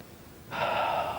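A voice imitates a sharp intake of breath: a sudden rushing hiss starts after a quiet moment and holds for about half a second.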